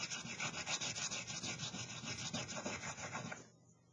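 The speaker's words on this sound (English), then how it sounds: "let's see what happens when you burnish milk paint" Milk paint finish on wood being burnished by hand, a steady close rubbing and scuffing with rhythmic strokes for about three and a half seconds before stopping abruptly into near silence.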